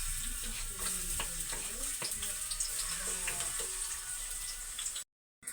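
Garlic frying in cooking oil in a pan, a loud steady crackling sizzle with occasional stirring scrapes, close by, cutting off abruptly near the end.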